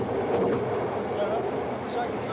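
A train rumbles steadily along a railway line in Persia (Iran) with a continuous low roar, a voice speaking over it.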